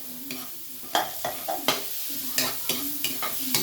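Onions sauté in a hot pan while being stirred, a continuous sizzle broken by repeated scraping strokes of the spoon at a fairly regular rhythm, close and clear with no talking.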